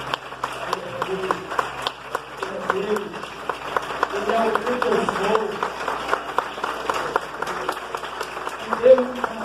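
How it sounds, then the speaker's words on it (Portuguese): Church congregation applauding in scattered, uneven claps while a preacher keeps talking loudly over them, with crowd voices mixed in throughout. "Aplauda Ele porque Ele merece."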